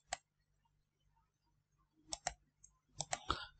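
Sharp computer mouse clicks sound in a quiet room: a single click, a pause, then two quick pairs of clicks followed by a soft rustle.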